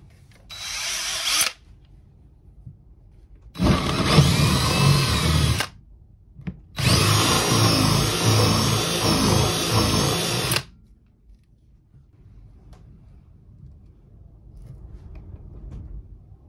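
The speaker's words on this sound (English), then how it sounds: "I'm using a half inch drill bit, the biggest one I have" A power drill with a half-inch bit whirs in three bursts, a short one then two longer runs, loud and close, with near silence between them, in a cargo trailer conversion.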